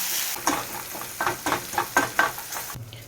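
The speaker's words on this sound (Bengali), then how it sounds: "সিমুইটা বেশ ভালো করে ভাজাই হয়ে গেছে" Vermicelli fries in a pan, with rhythmic bursts of stirring and scraping over a soft sizzle that drops to a low hum at the end.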